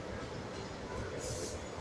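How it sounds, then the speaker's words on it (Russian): An electric commuter train passing near Odessa, a faint continuous rumble and rolling rail noise at a distance, with a brief hiss partway through. "я наблюдаю за электричкой"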